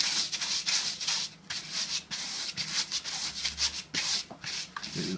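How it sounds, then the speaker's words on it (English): A paint brush rubbed with sandpaper to shape its bristles, a continuous close rasping scrub in quick back-and-forth strokes, with no speech over it. "Get the sandpaper up."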